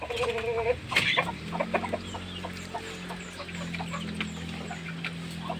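Chickens cluck close by, a few sharp clucks early, then a brooding hen's low steady murmuring clucks continue over faint background noise.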